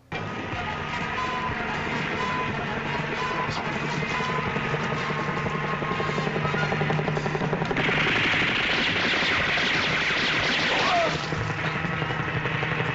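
Steady helicopter rotor chop and engine drone running throughout, loud and continuous, with a brief hissing swell partway through, from the Japanese Spider-Man TV series.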